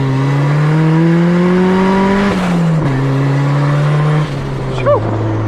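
A turbocharged Honda Civic on racing slicks pulls hard, its engine note climbing steadily through two gear shifts with a brief dip between, loud and close from inside the car, with a faint whistle near the end.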